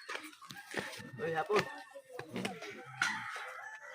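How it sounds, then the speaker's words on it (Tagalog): A chicken clucks and crows intermittently nearby, with people talking over and around it in a busy outdoor setting. "May manok."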